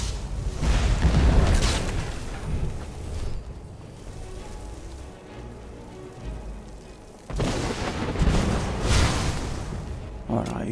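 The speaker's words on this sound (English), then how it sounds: "Firing off dragon breath again." A modded Skyrim dragon breath shout roars out in two loud, sustained rushing blasts with a quieter rumbling stretch in between, and someone speaks briefly around them.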